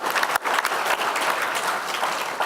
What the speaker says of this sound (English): Y'all give Johnny a round of applause